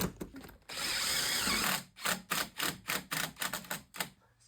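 A power tool drives bolts on a 7.5-tonne lorry being converted into a motorhome, one long whirring burst followed by a rapid series of short stuttering pulses, close and loud.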